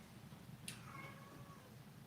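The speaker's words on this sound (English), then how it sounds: "Mournful meow." A single drawn-out, mournful cat meow, rising then sliding down, heard close over a low steady background hum.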